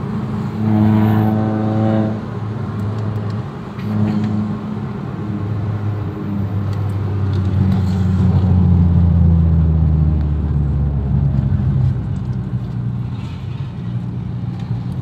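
A 2008 Honda City with a stock engine accelerates hard on a test drive. Its engine drones and rises steadily in pitch through the gears over about fifteen seconds, with road rumble heard close up from inside the car and no talk.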